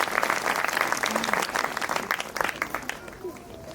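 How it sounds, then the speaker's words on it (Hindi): A church congregation applauding for God's glory during a Christmas service, a dense burst of many hands clapping that fades out toward the end. "एक बार जोर से ताली मारे परमेश्वर की महिमा के लिए"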